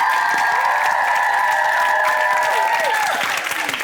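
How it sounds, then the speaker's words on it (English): A studio audience breaks into sustained applause on a martial arts skills show, steady and dense throughout, with a faint tonal ringing running underneath. "I think that deserves a round of applause."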